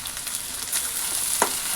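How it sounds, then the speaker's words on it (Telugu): Tomatoes frying in a pan give a close, even sizzle with a few light scrapes and one sharper clack near the end, no voices over the cooking. "టమాటాలు కూడా కొద్దిసేపు వేయించాలి."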